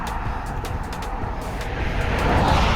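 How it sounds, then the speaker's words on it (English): Heavy street traffic roars past continuously, nearby and loud, with a building whoosh as vehicles close in near the end and no voice audible over it. "Hopefully you can hear me over these cars."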